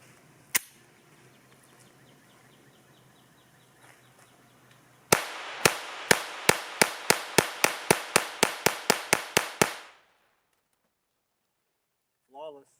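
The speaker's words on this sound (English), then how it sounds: "It's going to do a bit more rapid fire with the TX22." A Taurus TX22 pistol fires cheap bulk ammo: one sharp shot, then about fifteen rapid, evenly spaced cracks in a fast string, loud and close outdoors, followed by silence.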